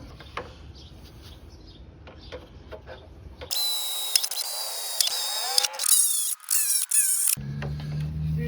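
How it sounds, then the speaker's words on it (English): A power drill whines steadily as it bores through material, pitch shifting under load for a few seconds, then cuts off. "Drill our holes."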